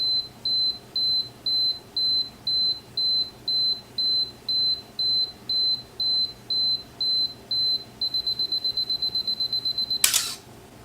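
A Canon AE-1 film camera's self-timer beeps in regular evenly spaced pulses, then quickens into rapid beeps before a sharp shutter click near the end, close and clear.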